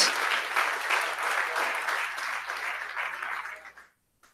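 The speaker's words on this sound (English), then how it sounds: "let's give them another round of applause" Audience applause at a Sunday Baha'i lesson gathering, a full, steady round of clapping that holds for several seconds, then tapers off and stops abruptly.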